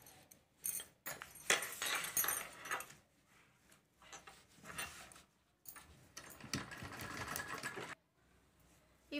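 A domestic sewing machine stitches a single line along a cloth bangle cover, running in several bursts of rapid whirring with short pauses between them, close and fairly loud with no talking.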